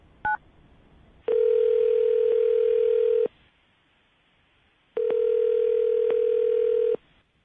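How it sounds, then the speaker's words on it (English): A telephone line gives a brief dialing tone burst, then two long steady ringback tones separated by a pause, loud and clean, as a phone call is placed with no talking. "I'm going to dial the phone number right now"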